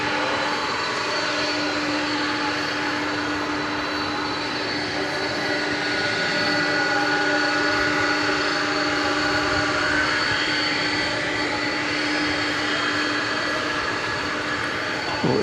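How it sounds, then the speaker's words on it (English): A 1993 MD-11 jet airliner at DFW Airport at night, its engines holding a loud, steady, continuous roar with a whining tonal hum, swelling slightly midway and never letting up. "And the MD-11 is coming to us from 1993."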